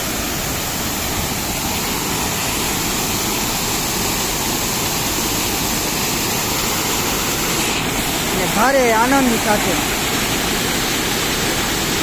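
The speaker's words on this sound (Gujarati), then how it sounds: "આ ધોધ જે વીસ ફૂટની ઊંચાઈથી અત્યારે પડી રહ્યા છે" Twenty-foot waterfall on the Demi river swollen after heavy rain, a loud steady roar of falling water throughout, with a voice briefly speaking over it near the end.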